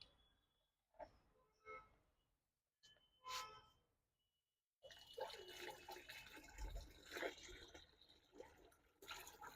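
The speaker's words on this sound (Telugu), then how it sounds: "ఇప్పుడు దీంట్లో వడకట్టేసుకుందాం." Turmeric organic spray liquid is strained into a container, first with a few scattered drips and splashes, then a steady, close pouring trickle that runs to the end.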